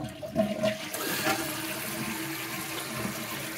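A home toilet flushing after a tank lever replacement, a half-tank flush with a brief gurgling rush followed by steady running and refilling water.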